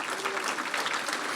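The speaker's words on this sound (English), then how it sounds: "and you can clap for Paul Davis Restoration." A brief burst of audience clapping at a public safety awards ceremony, dense and even, heard alone for a moment.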